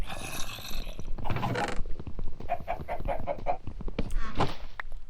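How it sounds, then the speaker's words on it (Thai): Chicken clucks from a Minecraft game world, a run of short repeated bird calls at moderate level, close by, with no talk over them. "เฮ้ยกูรำคาญเสียงไก่เย้ย"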